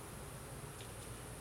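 Bees hum steadily inside an open beehive with a lot of brood, a dense, constant buzzing close by with no pauses.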